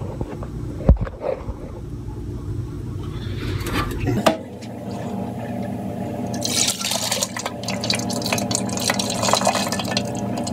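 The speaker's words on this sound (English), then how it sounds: "we're about ready to pour it into our tube" Melted snow water is poured into a snow-measuring tube in Billings, Montana, giving a splashing, dripping trickle that builds into steady liquid filling noise, close by, with a sharp clunk partway through.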